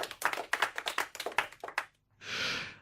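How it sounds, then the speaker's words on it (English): One person claps hands close to the microphone on a podcast, a quick run of about a dozen sharp claps, then a short pause and a breathy exhale-like noise. "I'm going to give you an applause again"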